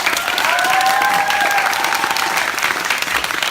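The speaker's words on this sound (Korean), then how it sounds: "큰 박수 한번 부탁드립니다" A theater audience gives loud, sustained applause at a stage greeting for the Korean film Secretly, Greatly. The clapping is full and continuous, and a thin whistle or cheer rises briefly above it early on.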